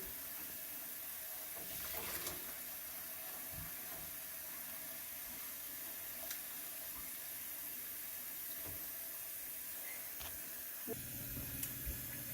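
Tap water runs steadily into a household sink being filled for hand-washing clothes, a continuous faint hiss with small splashy variations and a brief knock near the end.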